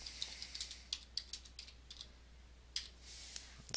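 Typing a message on a computer keyboard: quick, faint, irregular key clicks tapping in short bursts, close by and with no talk.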